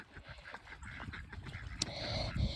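Ducks quack in a barnyard where turkeys and chickens roam nearby, giving short, scattered calls at moderate distance over a busy background of poultry and rustling.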